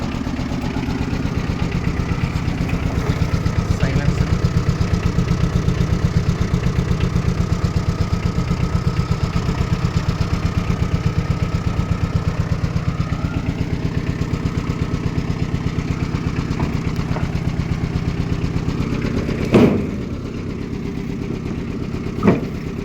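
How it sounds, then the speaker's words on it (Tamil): A 2008 Tata Ace mini truck idles steadily nearby with a constant low, throbbing rumble for over twenty seconds, and a couple of faint knocks near the end. "வெஹிக்கிள் ரன்னிங்கில் இருக்குது."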